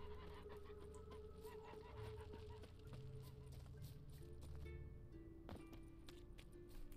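Quiet, distant goose honks repeat over soft ambient game sound in The Witcher 3, with occasional light clip-clop noises.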